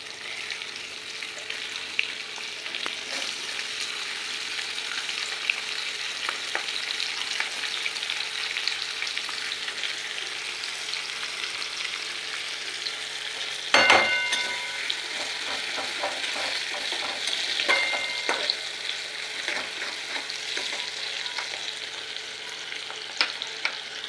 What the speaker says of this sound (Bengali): এরপরে কেটে রাখা পেঁয়াজ কুচিগুলো দিয়ে নেব।